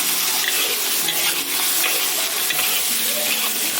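Garlic hits hot oil in a wok with pickled chilies, pickled greens and hotpot base, giving a loud continuous sizzle and frying hiss with scraping stirs throughout.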